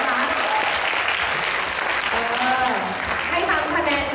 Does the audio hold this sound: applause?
yes